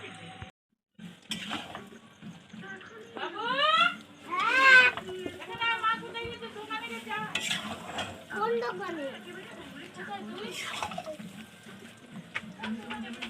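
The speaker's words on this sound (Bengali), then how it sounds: "মাংস কষা হচ্ছে এখন।" Meat is being sautéed and stirred in a pot, with a soft sizzle and occasional scraping and clinks of a utensil, while voices talk intermittently nearby.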